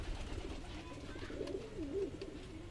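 A Phulsara pigeon coos softly, a few low rolling coos in the middle of the stretch over a faint background hum, among Madrasi pigeons offered for sale in Delhi.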